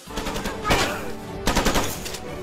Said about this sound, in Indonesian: Saat pelatihan, tembakan itu benar-benar nyata.